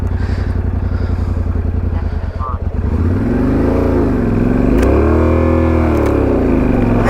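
A motorcycle engine chugs at a low idle, then revs up and down in rising and falling swells as the clutch is worked on a difficult climb, loud and close with someone talking over it.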